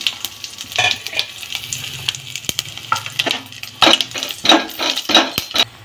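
Whole garam masala spices frying in about six tablespoons of oil for mutton rogan josh, crackling sizzle punctuated by repeated sharp clinks and scrapes of a spoon against the pan.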